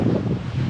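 Strong wind gusting outdoors ahead of a storm, a loud, continuous rushing roar buffeting the microphone without letup.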